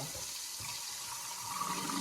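Tap water runs steadily into a kitchen sink as potatoes are rinsed, a soft continuous splashing hiss heard close and fairly quiet.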